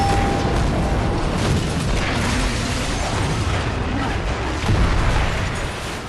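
Petrol station blowing up after being shot up in the action film The Marine: a sustained, loud, dense roar of rumbling blast and debris that stays heavy for about six seconds, with a brief swell near the end.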